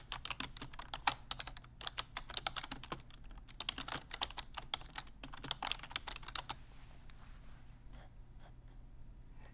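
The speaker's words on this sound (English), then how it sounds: "so I will type that now" Rapid, steady typing on a computer keyboard, close and fairly quiet, with keys clicking continuously before trailing off near the end.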